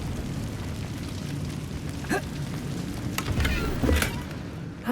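An Incendio fire spell cast in the video game Hogwarts Legacy, a whooshing, crackling burst of flame over a steady rushing bed, with a few sharp flares standing out near the end.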